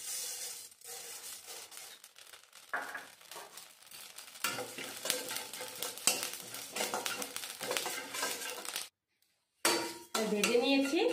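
Cumin seeds sizzle in a kadai in a village kitchen while a spatula scrapes and clinks against the metal, with irregular stirring knocks and a brief pause near the end.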